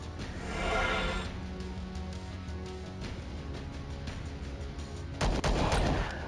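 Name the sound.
gunfire in combat, video game Star Traders: Frontiers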